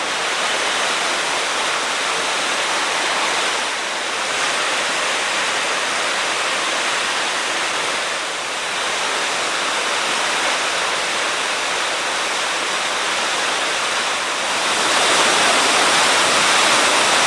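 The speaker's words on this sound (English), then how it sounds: "This is the water right above Natural Bridge, where it's being forced into that passage between the rocks." Kicking Horse River water rushes and roars through a narrow rock passage just above the natural bridge in Canada, a loud, steady, close-up torrent of white noise with slight swells.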